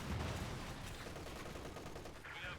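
MG34 machine gun firing incendiary rounds in a Company of Heroes 2 battle, a dense, steady stream of automatic fire with heavy low-end rumble that holds at an even loudness throughout.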